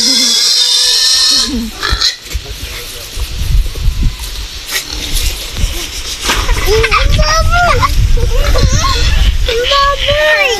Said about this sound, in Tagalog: Tignan mo yung baboy, oh.